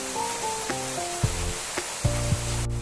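Luchi fry in hot oil with a steady, bright sizzling hiss, while stepped musical tones play over it in the background.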